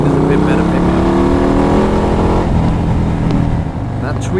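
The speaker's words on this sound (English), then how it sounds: "That tweaked engine makes such a good noise when you open up the taps" A tuned Harley-Davidson Low Rider S motorcycle engine accelerates hard in road mode, a loud, continuous rising roar with engine pitch climbing steadily and dipping slightly near the end.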